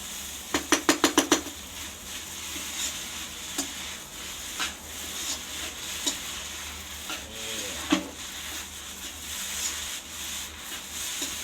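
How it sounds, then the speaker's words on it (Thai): Glass noodles with egg are stir-fried in a pan: a quick burst of clattering taps, then faint, intermittent scraping and rubbing strokes of the spatula with no talk. "ผัดไปเรื่อยๆนะครับผม ผัดไปเรื่อย ๆสูตรนี้ไม่มีติดหม้อครับผม"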